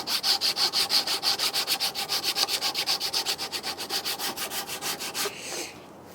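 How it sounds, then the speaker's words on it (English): Wooden hand sander rubbing back and forth over a wooden piece in fast, even, rhythmic strokes, close and loud, running about five seconds before stopping. "and do some great detailed sanding"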